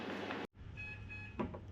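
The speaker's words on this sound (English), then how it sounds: "that's the alarm going off" An oven timer alarm sounds after an apple pie has baked for 40 minutes: a short series of thin electronic beeps, faint and fairly close, following a brief clunk and a moment of silence.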